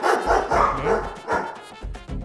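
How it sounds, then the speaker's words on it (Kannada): A dog barking in short repeated woofs with a few yips, fairly close and loud, with no one speaking. "ನಾಯಿ ಬೊಗಳಿರೋ ಸೌಂಡ್ ನನಗ್ ಬಂತು,"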